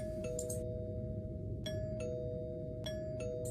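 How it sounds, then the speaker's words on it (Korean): Doorbell chimes ring in a clown horror video game, three separate ding-dong tones spaced across a quiet, steady hum. "초인종인가, 이거? 누르고 싶게 생겼는데?"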